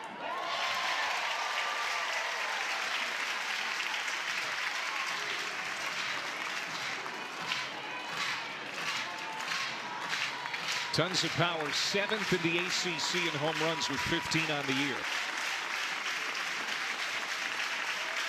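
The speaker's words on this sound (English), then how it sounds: "Crowd trying to get behind Sam Landry." Softball crowd at a home game in Norman cheers for a batter, a steady roar with scattered clapping and whistles underneath continuous commentary from a broadcaster's voice.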